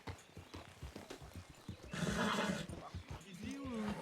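A horse in a western video game gives a loud whinny over clip-clopping hooves, while people talk throughout.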